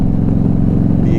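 A motorcycle engine and exhaust drone steadily while riding, a low, pulsing note close and continuous for a brief moment with no talk.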